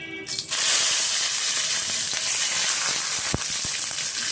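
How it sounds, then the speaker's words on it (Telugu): Cut brinjal pieces, soaked in salt water, hiss and sizzle loudly as they fry in oil in a pan, a steady dense crackle after a quiet start, with a few louder pops and clinks near the end. "వంకాయ ముక్కలు కోసి ఉప్పు నీళ్ళలో వేసి పెట్టుకున్నాను. వాటిని కూడా ఇప్పుడు వేయించుకుంటాను."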